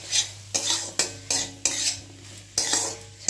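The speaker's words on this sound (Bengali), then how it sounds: "দিয়ে এটাকে ভালো করে মশলাটার সাথে রান্না করে নেব, একটু মিশিয়ে নেব এটাকে।" A spoon or spatula stirring carrots and peas with spices in a pan, giving regular scraping clinks about every half second over a soft sizzle, close up and with no talking.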